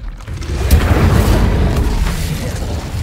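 The Incendio fire spell in Hogwarts Legacy goes off as a loud, sustained fiery whoosh and rumbling boom that fills about three seconds with no voices.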